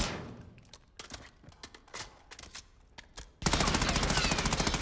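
Automatic gunfire in the Verdansk video game, short bursts of rapid shots with pauses between them, then a loud, dense, sustained burst at the end.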